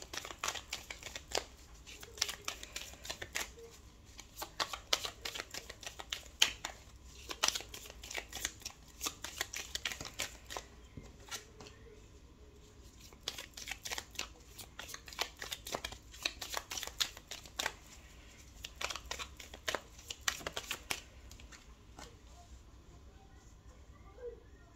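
Tarot cards being shuffled for a reading, soft close riffling and sliding in irregular bursts throughout, quiet and fairly constant.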